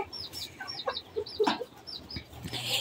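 Hens in a backyard coop cluck softly and intermittently at close range, short chirpy calls overlapping with a few louder cackles, with no talking.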